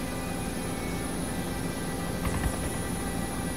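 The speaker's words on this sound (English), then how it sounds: "That's another helicopter underneath us there." Helicopter flying in the video game ARMA 2, a steady continuous rotor and engine drone heard from inside the cockpit, with a slight swell near the end.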